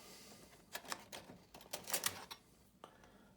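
Etched brass model parts for an All Nation GP-40 engine body kit being trimmed, a few quiet, sharp clicks and snips in an irregular cluster at close range.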